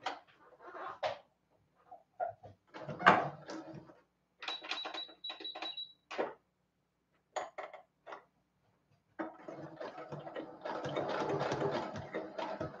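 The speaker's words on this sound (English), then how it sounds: "I'm just basting this to the interlining before I sew the two pieces together" A sewing machine bastes fabric to interlining in short, close bursts of rapid stitching, separated by pauses and fabric handling, before a longer steady run at the end.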